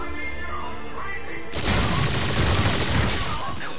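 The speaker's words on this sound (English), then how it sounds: "Shotgun." A shotgun firing in a video game, a sudden loud blast after a quiet musical opening, followed by a dense stretch of crashing shots and impacts.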